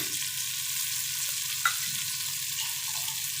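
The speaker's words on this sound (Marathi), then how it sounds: "पलिताने असं मी परतून घेणार आहे" Malvani-style tawa chicken frying in oil on a griddle, a steady close sizzle with one brief spatula tap midway and no voices.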